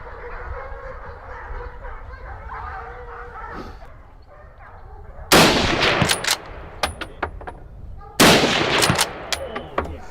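Two loud gunshots ring out a few seconds apart during a driven wild boar hunt in Europe, each followed by brief echoing cracks, after a stretch of muffled outdoor noise with possible dog barking.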